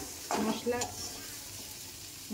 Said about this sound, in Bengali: এবার বাকি ভাজাটা আলুর সঙ্গে করে নেবো।